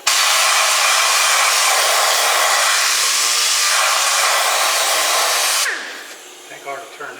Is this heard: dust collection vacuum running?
yes